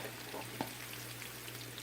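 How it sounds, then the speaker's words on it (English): Quiet, steady crackling and sizzling of food frying in oil, with a low hum underneath and one small pop. "Maybe I can fry all at once."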